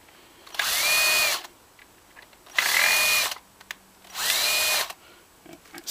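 Power drill whirring against a stuck screw in a VCR, three bursts of about a second each with short pauses between, each spinning up, holding steady and winding down, close and clear.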